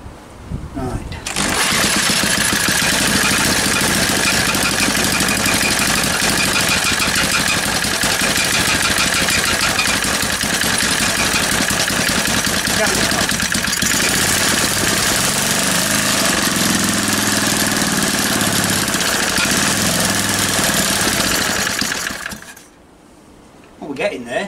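An old petrol engine runs loud and steady for about twenty seconds with a rough, chugging mechanical roar, then cuts out abruptly, leaving near-silence and a brief noise at the end.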